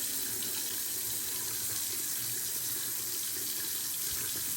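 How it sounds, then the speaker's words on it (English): Newly installed bathroom faucet running water into a sink, a loud, steady, close hiss of flowing water throughout with no talking. "I'm just going to turn the water on, let it run, and I'm just feeling for leaks"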